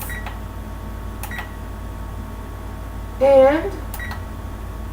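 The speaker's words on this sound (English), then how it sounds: "And I set my timer on my stove" A stove timer gives a short run of electronic beeps as it is set, a brief cluster of bright tones under a quiet room hum, with a voice speaking briefly.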